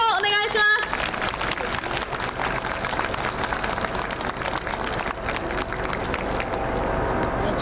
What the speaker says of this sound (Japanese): 実施してくれた清水山荘と銀太郎にもう一度大きな拍手をお願いします。